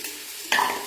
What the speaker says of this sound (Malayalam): പിന്നെ ഒന്ന് ഇളക്കി കൊടുക്കാം